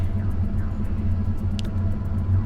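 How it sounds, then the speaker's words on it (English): Low, steady rumble of the Mako, a six-wheeled armored vehicle in the video game Mass Effect, landing and driving across an alien planet surface, with one brief high whoosh partway through. "Planetary exploration works using the Mako, the vehicle we saw in the cargo bay"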